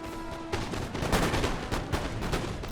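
Musket volleys in the Napoleon: Total War video game, a dense rolling crackle of many shots fired in quick succession, loud and continuous after a brief quieter start.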